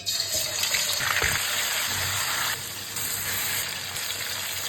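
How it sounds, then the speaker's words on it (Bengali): Chicken pieces dropped into hot oil and frying: a dense, steady hiss and crackle with a brief splash of bubbling early on, close and moderately loud, without talk. "তেলটা গরম হয়ে গিয়েছে, চিকেনগুলো দিয়ে দিব।"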